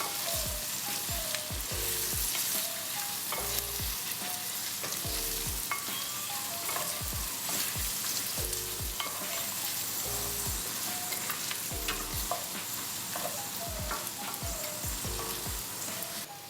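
Buff meat with squeezed lemon juice sizzles and fries steadily in a pan, a dense continuous crackle with repeated scraping stirs, close and fairly loud with no voices.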